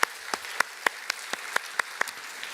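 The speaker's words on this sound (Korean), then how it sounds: "모두를 위해서 다 같이 한번 박수로 그렇게 한번 하겠습니다" During a Sunday worship service, a church congregation claps for a mission team leaving for Indonesia: sharp, evenly spaced claps come one after another at a quick, regular pace, crisp and fairly near in an otherwise quiet room.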